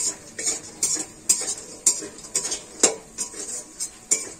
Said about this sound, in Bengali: এরকম করে বড়ি মজমজে করে ভেজেও আপনারা খেয়ে নেবেন